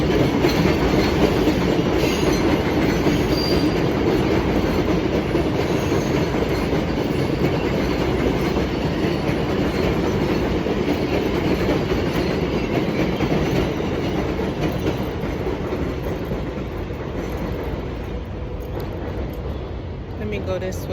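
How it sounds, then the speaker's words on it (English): A train rolls past on rail tracks, a loud, continuous rumble with rhythmic clatter lasting the full twenty seconds, easing slightly toward the end, while a person talks over it. "You might not hear the train as much."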